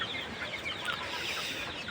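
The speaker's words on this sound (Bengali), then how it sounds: "আর এগুলো আমার ডিম পাড়া রানিং মুরগি" Laying hens cluck quietly in a low, continuous chatter, a faint flock murmur with no voices.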